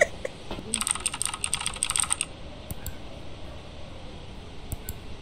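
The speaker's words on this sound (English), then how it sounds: "do you hear the keyboard and the mouse?" Computer keyboard typing and mouse clicks come from within the horror game Phasmophobia, a fast burst of keystrokes followed by scattered isolated clicks, fairly faint and distant.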